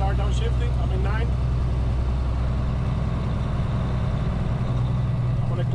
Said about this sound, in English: I'm gonna make a right at the light, so I'm gonna start downshifting, I'm in 9.